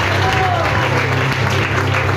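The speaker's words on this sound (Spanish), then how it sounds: "Déjale un aplauso al Rey de Gloria" Church congregation applauding steadily throughout, a dense continuous wash of clapping at close range, with a voice faintly audible beneath it.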